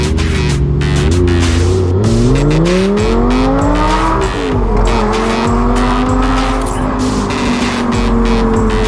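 A Lamborghini sports car engine roars loud and close, revving up through the gears with rising pitch, steady and continuous.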